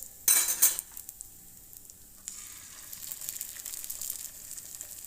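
An egg frying in a pan at home, a brief clatter of utensil against the pan at the start, then a steady, faint crackling sizzle that carries on alone.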